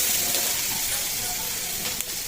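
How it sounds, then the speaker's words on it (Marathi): Sandge, sun-dried lentil dumplings, sizzle and crackle steadily in hot oil with well-roasted onion, a close, continuous frying hiss with faint stirring clicks and no voices. "कांदा छान भाजल्याच्या नंतर त्याच्यामध्ये सांडगे टाकले. त्याला थोडंसं भाजून घ्यायचं तेलामध्ये."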